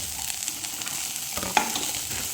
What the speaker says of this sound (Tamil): கிண்டுங்க